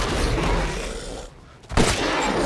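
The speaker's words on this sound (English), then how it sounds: "Now let's test the S.T.A.K.E. with full upgrades and parts." Heavy gunfire from the fully upgraded S.T.A.K.E. weapon in the video game Resident Evil Village, two loud dense blasts separated by a short drop, with a roaring, noisy tail.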